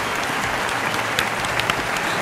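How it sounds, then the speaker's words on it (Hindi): A studio audience at a Hindi-language quiz show applauds steadily, a dense, even wash of clapping that holds from start to finish, with no speech. "अपने लिए तालियां बजा दें।"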